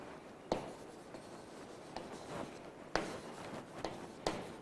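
Marker or chalk strokes on a board during a physics lesson, quiet scratchy writing with a few sharper taps as strokes begin, irregular and close in a quiet room.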